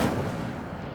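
An Incendio fire spell cast in the Hogwarts Legacy video game, heard as a single heavy booming blast that fades into a rumbling decay over about a second.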